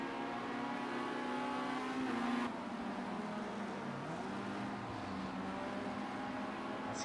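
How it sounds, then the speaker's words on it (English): A race car in Project CARS Formula Rookie Cup racing at Donington Park GP, engine droning steadily with a pitch shift and a dip as a nearby car goes off track, no talking. "That sounds like a car's just gone off nearby."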